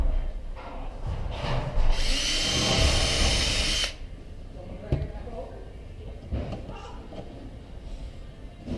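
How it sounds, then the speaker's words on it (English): Power drill boring holes for drywall anchors while mounting a dryer vent: one loud steady whir of about two seconds, then quieter handling clicks and taps, with a person talking over parts of it. "Okay, now it's time to install the anchors"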